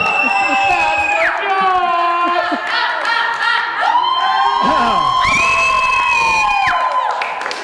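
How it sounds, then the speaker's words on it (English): Youth group crowd cheering loudly at a youth worship event, with shrill screams, whoops and shouting voices rising and falling over scattered clapping, close and intense throughout. "Crowd, come on, get loud, get loud."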